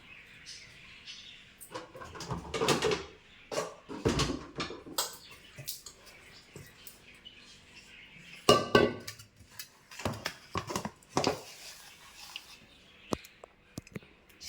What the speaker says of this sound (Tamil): அடுப்பில் வந்து கடாய் வச்சுக்கலாம்